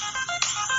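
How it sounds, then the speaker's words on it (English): A phone alarm ringtone plays loudly and close, a bright electronic tone pattern with short repeating pulses and no voices over it. "sorry, that was my alarm for you guys"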